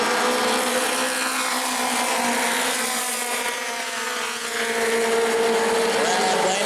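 Modified race cars in a Mod Mini 50 race at New Smyrna run seven-wide close together, their engines a loud, continuous droning roar that rises and dips slightly as the pack passes.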